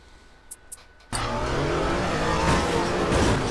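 Street racing video game car roaring loudly under acceleration, a steady engine drone with tire noise and scrapes kicking in abruptly after a quiet start with a few faint clicks.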